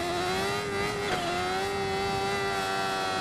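Motorcycle engine in the racing video game RIDE, a steady high-revving whine holding nearly constant pitch with a slight dip midway, loud and continuous throughout with no voices.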